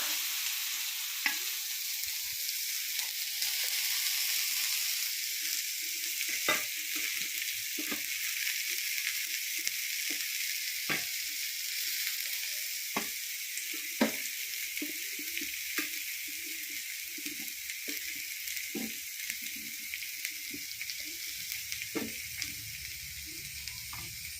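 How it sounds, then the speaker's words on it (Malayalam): Wild amaranth mixed with grated coconut, garlic, salt and green chilli sizzles steadily in hot oil, with a spatula scraping and stirring through it in irregular strokes, close and without speech. "ഉപ്പ് പച്ചമുളക് എല്ലാം കൂടി ഇട്ട് ഇളക്കി നമുക്കിങ്ങനെ എണ്ണയിലേക്ക് ഇട്ട് കൊടുക്കാം"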